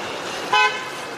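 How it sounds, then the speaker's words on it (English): A car on a street in Montana gives one short, fairly close horn toot over steady road and wind noise, heard from a bicycle. "She gave me the honk, said, go ahead."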